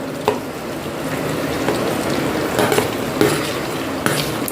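Fried chicken goes into a pan of sizzling pepper chilli masala, producing a loud, steady frying hiss throughout, with occasional clinks and scrapes of a utensil against the pan and no voices.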